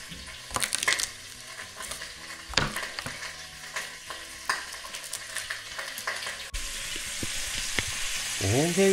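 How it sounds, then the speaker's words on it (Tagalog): Pork liempo, onion and garlic sauté in a hot pan for munggo, crackling sizzle with repeated scraping and stirring clatter up close, the frying swelling louder toward the end. "saute lang tayo ng pork, onion, and garlic"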